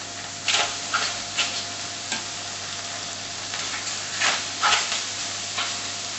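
Thai-flavoured pork chops laid oil side down into a heated pan, sizzling and spitting steadily with several louder crackling bursts as the meat hits the hot oil.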